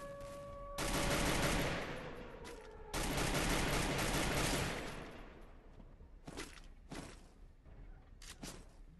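Loud, sustained bursts of automatic gunfire in the battle-royale game Free Fire, two long volleys followed by several shorter shots, with no talking over them.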